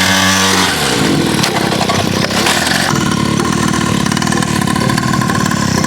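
A small motorcycle engine idles close by, loud and continuous, with a rough, throbbing mid-range rumble and a slight shift in pitch early on.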